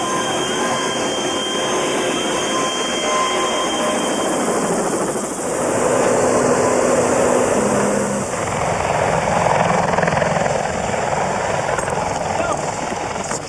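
Military helicopter flying during a U.S. Marine landing in Somalia, a loud steady rotor and turbine roar that fills the whole clip, with faint voices mixed in underneath.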